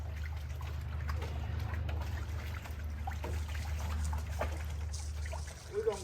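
Cold water trickling and splashing over a freshly skinned raccoon outdoors to rinse off blood, a steady low rushing pour with small drips, close and continuous.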